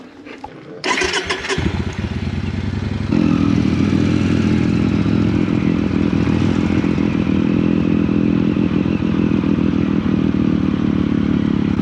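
A motorcycle in the Colorado Rockies starts with a loud clattering crank, then settles into a close, steady rumbling idle that holds for several seconds, with no one speaking.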